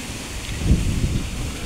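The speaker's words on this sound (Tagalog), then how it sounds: "Sarap dito ng hangin, Tignan nyo guys, ang sarap ng hangin. Mahangin" Blustery wind buffets the microphone with low, rumbling gusts, steady and close, with no voices.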